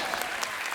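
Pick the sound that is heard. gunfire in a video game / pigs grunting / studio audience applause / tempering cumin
studio audience applause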